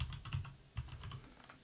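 Keys on a computer keyboard, including the spacebar, pressed in a short run of soft, close clacks with a brief pause in between, with no talking.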